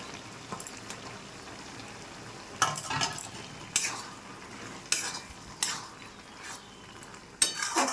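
Egg is stirred into sponge gourd cooking in a pan, a soft low sizzle broken by several sharp scraping strokes of a spatula against the pan at irregular intervals.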